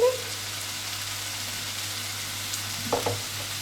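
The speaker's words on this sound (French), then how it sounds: "on va les faire revenir dans un peu d'huile" Small cut peppers sautéing in a little oil in a pan, a steady close sizzle and frying hiss that holds throughout, with a brief stirring clatter near the end.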